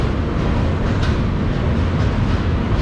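A Coimbatore–Nagercoil passenger train rolls along the rails with a steady, loud low rumble and rattling carriage noise, heard from inside with no talking.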